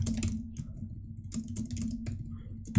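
Computer keyboard typing in short irregular bursts of clicks over a steady low background hum, fairly close, with no talking.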